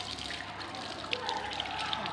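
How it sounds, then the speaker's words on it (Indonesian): Water running steadily from a tap for handwashing, a continuous soft splashing trickle with small droplet spatters, close and fairly quiet. "Hidupkan keran."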